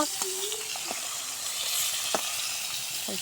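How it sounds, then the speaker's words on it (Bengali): Fish frying in hot oil in a pan makes a dense, even sizzle throughout, with a few brief voice fragments over it. "এবার সুন্দর করে আমরা মাছগুলো ভাজে নেব"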